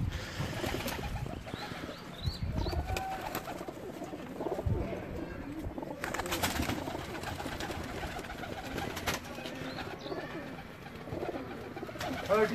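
Tournament high-flying pigeons coo steadily and close by, with occasional wing flaps and faint background voices over a continuous outdoor murmur.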